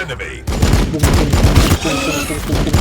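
Loud, rapid gunfire from Warhammer 40K Battlesector, a Blood Angels campaign battle, rattling out in quick repeated bursts through nearly the whole stretch after a brief quieter opening.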